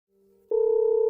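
A telephone line tone plays while a call is placed: a faint hum first, then a sudden loud, steady electronic tone with a fast pulsing flutter that holds to the end.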